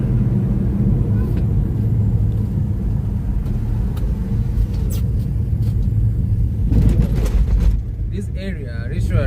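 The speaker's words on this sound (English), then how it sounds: "Cruising in these crazy matatus." Steady low engine rumble and road noise from inside a crowded matatu minibus, continuous throughout with brief clatter and a shift in tone near the end, voices faintly present in the background.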